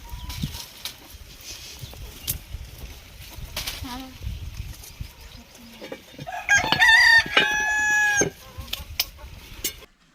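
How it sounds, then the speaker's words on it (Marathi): A hen clucks and then breaks into a loud, excited cackling burst after laying an egg near the end, with faint background movement and low voices. "कोंबडीने अंडा घातलेलं होतं त्यामुळे मग ती जास्तच ओरडत होते"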